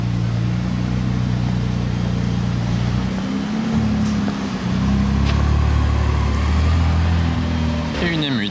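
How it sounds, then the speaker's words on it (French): A hybrid McLaren Artura Spider sports car runs with a steady, loud engine drone and a brief dip in level, joined near the end by other traffic noise in a busy street in Monaco. "Artura Spider qui vient de démarrer."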